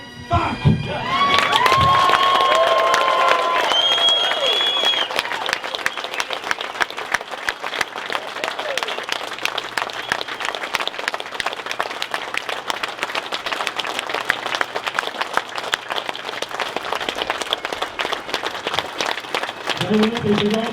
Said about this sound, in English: So instead of a moment's silence, I just want us to clap like fuck!